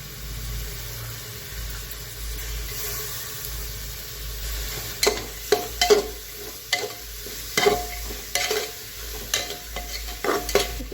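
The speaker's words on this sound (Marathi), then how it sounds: "आता टाकणार आहे फ्लावर आणि वाटाणा" Cauliflower florets and peas stirred as they fry in a pressure cooker, a steady low sizzle broken in the second half by a series of sharp spoon scrapes and knocks against the pot.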